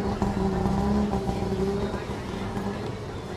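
Car traffic moving along a busy Bangkok street lined with small fast-food stalls, a steady close engine rumble with passing vehicles, and background voices of the crowd mixed in.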